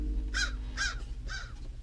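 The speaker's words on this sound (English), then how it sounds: "Dang crow." A crow caws three times in a steady, evenly spaced series, each call loud and harsh, standing out clearly over a low background hum with no talking.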